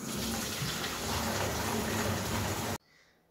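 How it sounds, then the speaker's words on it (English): Tap water gushes into the wash side of a plastic mop bucket, a loud steady rushing fill that cuts off abruptly near the end. "So I'm going to fill up with water on the wash side."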